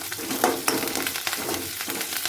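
Dried red chillies and curry leaves sizzle in hot oil in a pan for a pumpkin and curd curry, with a steady crackling hiss broken by the scrape of stirring, close and fairly loud, with no talking.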